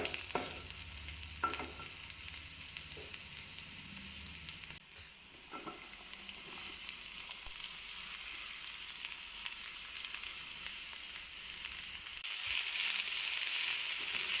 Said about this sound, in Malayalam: അതിനുശേഷം സവാള ഇട്ട് നമുക്ക് വാട്ടാം.